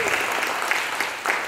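An audience applauds for a band at a music video premiere, a dense continuous wash of clapping with a few sharper individual claps.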